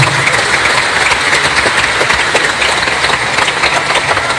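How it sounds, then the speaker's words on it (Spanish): An audience at a church gathering applauds a brother, giving dense continuous clapping that holds steady and loud for the whole stretch. "Un aplauso para el hermano"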